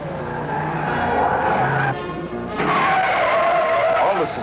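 A 1972 Pontiac Firebird Trans Am skids through a high-speed corner, a loud continuous tire squeal over steady engine roar, shifting pitch partway through as the car slides.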